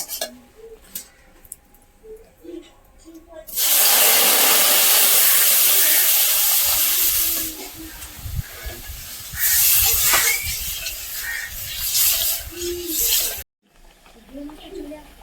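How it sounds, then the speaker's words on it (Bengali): Water poured onto fried semolina in a hot pan, bursting into a loud, sustained hiss of steam and bubbling that rises sharply, wavers for about ten seconds, then cuts off abruptly. "সুজি ভাজা হয়ে গেছে এবার আমি জল দিয়ে দেবো"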